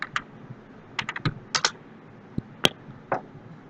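Keys clack on a computer keyboard in short irregular bursts, a few quick taps then pauses, close and crisp in a quiet room.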